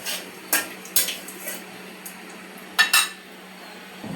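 Spatula scraping and clinking against a pan as bay leaves and cumin are stirred into hot oil left from frying fish, a few distinct sharp clatters over a faint steady hiss, no voices.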